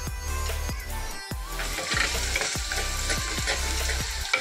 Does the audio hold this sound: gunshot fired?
no